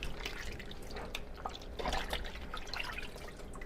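Water mixed with strong vinegar and lemon juice splashes and trickles over a pork shoulder, with close, steady dripping and pouring that swells briefly midway.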